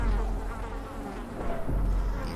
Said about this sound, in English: Incessant buzzing.